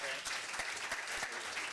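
Audience applause at a city council meeting, a steady wash of many hands clapping at moderate distance, continuous throughout with a few louder claps standing out.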